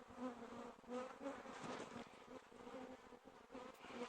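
Honeybees swarm around an opened hive of brood and uncapped honey, a close, continuous droning buzz with rising and falling swells and no voices.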